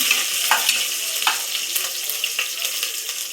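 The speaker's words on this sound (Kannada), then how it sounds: "ಹಸಿಮೆಣಸಿನ್ಕಾಯಿ ಹಾಕ್ತಾ ಇದು ಸ್ವಲ್ಪ ಫ್ರೈ ಆಗಬೇಕು" Green chilies fry in a pan with a steady bright sizzle, broken by a few soft clinks and stirring scrapes, close and fairly loud with no voices.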